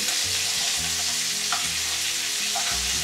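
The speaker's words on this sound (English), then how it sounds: "So I'm going to turn the pork chops over and brown the other side." Pork chops browning in a frying pan, a dense continuous sizzle with a low hum underneath, close and loud with no talking.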